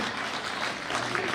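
Loud, dense applause from a crowd at a Republic Day honours ceremony at a government school, a continuous close wash of clapping with no break.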